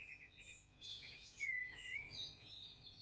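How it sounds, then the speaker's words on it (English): Faint bird chirps and a thin whistled call over a quiet outdoor background, distant and soft. "Just like the sound of these birds."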